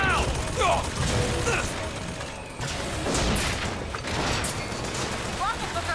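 A deployed turret in Bioshock Infinite rattles with fast mechanical firing amid combat, loud and busy with impacts and clanks, with voices calling out over it.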